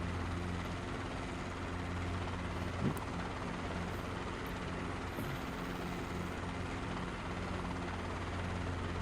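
A helicopter flies low along a runway, its steady rotor thrum and engine whine continuous and moderately loud from inside, with no voices over it.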